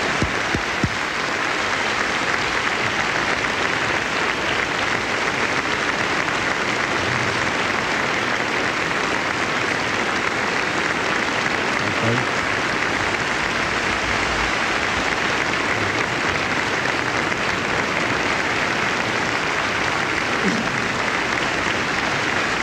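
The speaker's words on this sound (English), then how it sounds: "they will applaud as we welcome the two candidates, Governor Bush and Vice President Gore" A debate-hall audience gives sustained applause as the two presidential candidates, Governor Bush and Vice President Gore, are welcomed, a dense, even clapping that fills the room without pause.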